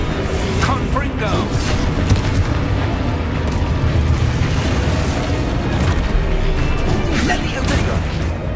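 A Confringo blasting spell goes off in Hogwarts Legacy, a loud, rumbling explosive roar that fills the whole stretch, with a voice talking over it.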